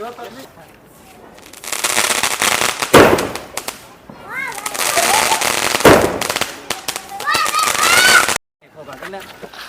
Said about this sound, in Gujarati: આમાં બાર ધડાકા થશે બાર ધડાકાનો તમને વિડીયો બતાવું